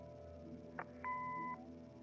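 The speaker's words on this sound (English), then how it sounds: "Leave a message after the beep." A brief click followed by a clear, steady electronic answering machine beep lasting about half a second, alone against faint background hum, in the video game Kathy Rain.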